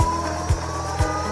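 An Acton Blink Lite electric skateboard wheel spins freely under its motor, then brakes. A steady whine runs throughout, with soft low thumps recurring about every half second, close by.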